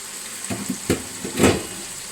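Food frying with masala in a pan, heard as soft, sporadic sizzles and stirring scrapes coming in short bursts, fairly quiet and close, with no talking.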